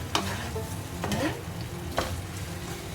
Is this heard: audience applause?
no